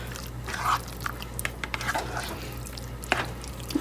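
A spoon stirs roasted turkey into thick turkey pot pie filling in a pot, with soft wet squelches and a few light clinks scattered over a steady low background hum, close and fairly quiet.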